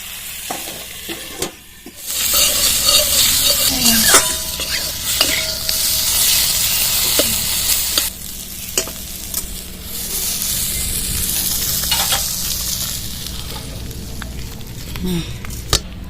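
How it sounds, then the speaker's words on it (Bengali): Tomatoes sprinkled with salt sizzle and fry in a pan, with a steady hiss and occasional stirring scrapes running throughout after a quieter opening two seconds. "আর টমেটোগুলো দিয়ে দেবো লবণ ছিটিয়ে দেবো টমেটোর মধ্যে তাহলে নরম হয়ে যাবে"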